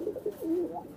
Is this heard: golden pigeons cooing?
yes